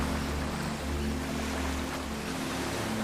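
Pacific Ocean waves surging inside a sea cave near Los Angeles make a loud, steady, dense roar with low rumble, near and continuous, with no voices.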